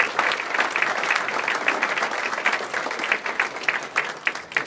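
A dinner audience at a Purdue baseball event gives a round of applause for John Enterbo, with close, steady clapping from many hands that stays loud for the whole stretch.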